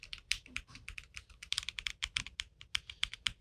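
Rapid clicking of a 70% mechanical keyboard as keys are typed on, crisp close keystrokes with a double click from switch and bottoming out, steady and irregular in rhythm with no voices.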